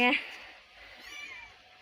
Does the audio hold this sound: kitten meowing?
yes